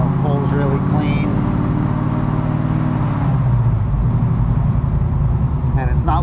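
A Shelby with a FiTech dual-quad fuel-injected 526-cubic-inch all-aluminum engine drives along, its deep steady engine rumble loud and continuous with a brief rise partway, while someone talks over it throughout.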